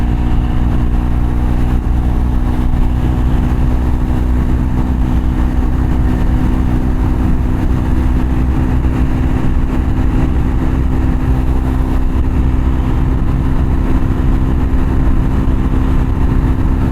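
A Triumph Scrambler 400X with a 15-tooth front sprocket cruising at interstate speed. The engine drones steadily with wind rush, loud and unbroken throughout, with no talking.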